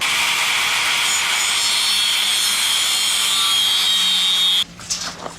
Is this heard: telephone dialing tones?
no